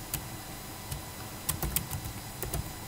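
Keys on a computer keyboard are tapped in a quick, irregular run of sharp clicks, close and fairly quiet, with no voices.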